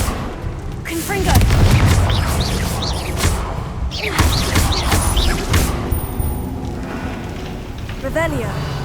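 A Confringo blasting spell from Hogwarts Legacy bursts in a series of booming, thudding explosions, loud and close, scattered through the stretch and mixed with other game effects and a voice calling out spell names.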